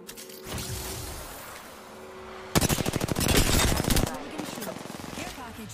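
Gunfire in a first-person shooter video game: a rapid burst of loud automatic shots in a close, even rhythm, with scattered quieter shots before and after, while someone talks over it.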